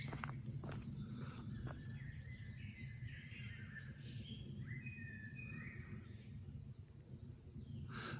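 A blackbird sings in a wood, its fluting phrases faint and distant over a low steady background hum, with a few soft clicks near the start.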